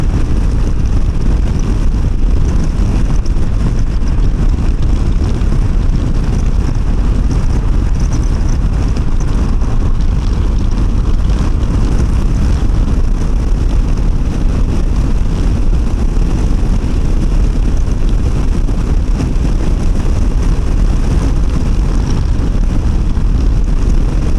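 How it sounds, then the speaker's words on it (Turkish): Loud, constant wind rush from riding a Honda CRF Rally motorcycle at speed, a dense roar with engine drone underneath, unbroken for the whole stretch. "giderken acaba rüzgar sesi nasıl diye düşünüyordum ya"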